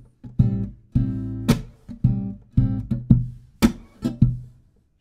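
A fingerstyle hip-hop groove plays on an acoustic guitar, close and clear, with punchy thumbed bass notes, percussive slaps and short strummed chords in a steady syncopated rhythm before fading out.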